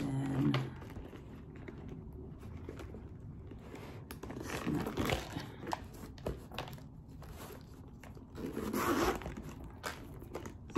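A zipper on a Louis Vuitton toiletry bag rasps open and closed in a few short pulls amid rustling and handling noise, close by, with no talking.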